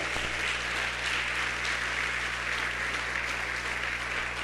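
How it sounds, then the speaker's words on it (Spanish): A church congregation claps as an offering of praise during a sermon, a continuous even wash of applause with a low steady hum underneath and no talk. "Así de sencillo, dele una ofrenda de palmas,"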